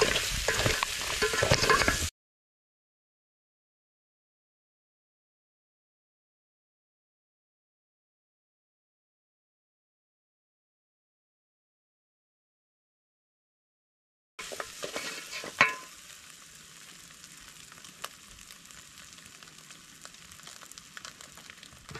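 Food for a Swahili dinner fries and is stirred in a pan outdoors by the ocean in an African village, a steady loud sizzle that cuts to silence for several seconds, then returns quieter with occasional scraping clatter.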